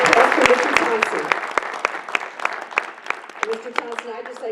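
An audience at a school board meeting claps for an honoree, a burst of applause with sharp individual claps standing out, tapering over a few seconds as a voice starts up.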